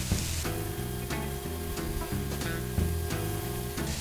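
Chicken sizzles on a Blackstone griddle with a steady frying hiss under a backing music track, continuous and fairly loud, with no speech.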